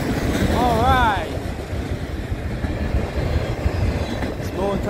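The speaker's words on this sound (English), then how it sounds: "I knew I heard a train coming the minute I was coming out of the Pulsar" A slow southbound CSX freight train of multi-level autorack cars rumbles past close by, with a dense rolling roar of wheels, rattling cars and a brief wavering squeal near the start. A person talks over the noise.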